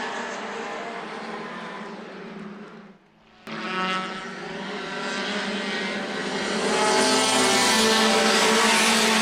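Outlaw late model race cars roar around a Kalamazoo oval after a restart, a dense wall of engine noise that dips briefly, then surges back and builds louder as the pack comes by.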